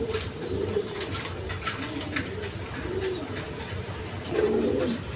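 Pair of high-flying Giribaz pigeons with green necks cooing steadily, soft repeated low coos close by with faint bird chirps above.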